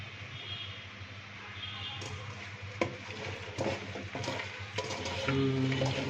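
Beef being mixed with oil by hand in a bowl, a close, continuous squelching and rubbing of wet meat with occasional louder slaps and knocks, without talk.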